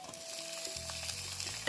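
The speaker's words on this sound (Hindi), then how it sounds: "अब डाल देंगे इसमें कटी हुई हरी मिर्च और" Chopped green chillies drop into browned onions frying with ginger, a quiet, even sizzle that continues steadily in the pan.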